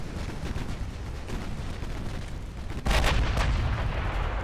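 Warship main guns fire in the naval game Ultimate Admiral Dreadnoughts, heard as a continuous barrage of booming, rumbling reports that swells louder partway through, with no talking.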